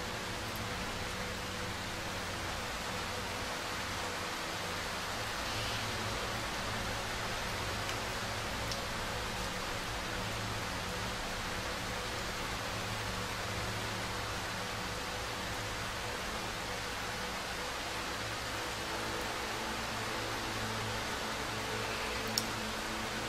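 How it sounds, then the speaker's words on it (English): Steady, even rain hisses without pause in the Darkwood survival horror game, a soft continuous wash that holds at one level throughout with no voices over it. "And it's raining. That's even better."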